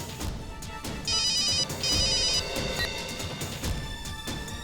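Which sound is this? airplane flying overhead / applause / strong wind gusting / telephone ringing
telephone ringing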